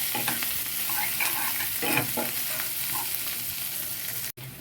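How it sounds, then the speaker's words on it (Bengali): Sliced onions fry in a kadai while a spoon stirs them, a soft steady sizzle broken by repeated scraping strokes against the pan, close and moderately quiet, ending with a brief drop-out. "যতক্ষণ না পেঁয়াজগুলো ভাজা হচ্ছে হালকা করে, ততক্ষণ আমি এটা নাড়তে থাকবো পেঁয়াজগুলো কড়ায়।"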